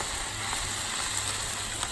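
Spinach and stir-fry ingredients sizzling on a Blackstone griddle, a steady, bright, close frying hiss without pause and no voices.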